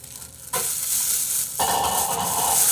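Bibimbap with pork cartilage mixed with a spoon in a bowl, a continuous scraping, hiss-like stirring that starts abruptly and grows fuller, close and fairly loud, with no talk.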